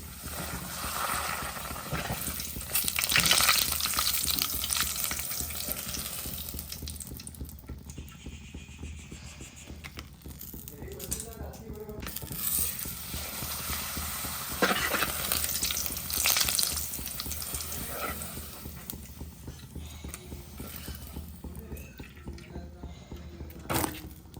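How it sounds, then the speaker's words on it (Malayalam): Papadam frying in hot oil in a heated pan, a steady close sizzle and crackle with louder bursts as pieces hit the oil, running continuously with no voices. "നമുക്ക് പപ്പടം കാച്ചിലാണ് കേട്ടോ അടുത്ത പരിപാടിക്ക് ചട്ടിക്ക് ചൂടായി എണ്ണ ഒഴിച്ചു"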